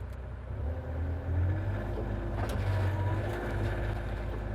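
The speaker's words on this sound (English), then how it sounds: "So I'm going to start digging now." A Bobcat excavator digging toward a 12-inch minimum-cover target depth gives off a steady, loud engine rumble that drones continuously and close by, with no talking.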